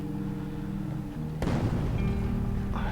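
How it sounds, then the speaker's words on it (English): Explosions and bombardment sound outside a shelter in the war survival game This War of Mine: a sudden broadband boom at about 1.4 seconds, then a rumbling, crackling wash that carries on over a steady low ambient hum. "You can hear the bombs and explosions going on outside."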